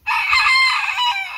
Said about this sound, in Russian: Так они еще и кукарекают уже.